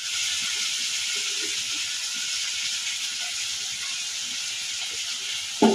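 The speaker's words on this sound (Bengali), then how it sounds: "এগুলো দিয়ে আমি কিছুক্ষণ ভেজে নিব।" Chili, ginger and turmeric paste frying in a pan, giving a steady, loud, even hiss of sizzling oil with no pauses and no talking, ending in a brief knock.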